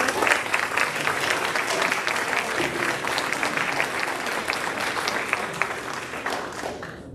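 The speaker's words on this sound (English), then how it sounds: "Another round of applause for our string orchestra." Sustained audience applause for a string orchestra at a spring pops concert, many hands clapping in a thick, even patter that holds steady and then begins to fade near the end.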